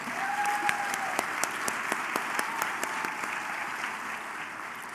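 Audience applause at a Cleveland Legal Aid Society annual luncheon: steady, fairly distant clapping from a crowd, with individual sharp claps standing out, continuing alone with no talk.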